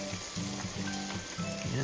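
Pinakbet vegetables fry in a pan over high heat, giving a low, continuous sizzle with faint stirring scrapes, fairly quiet and close, with no one talking.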